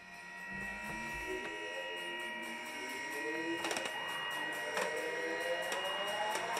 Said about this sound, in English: So this is the noise of the heat ray,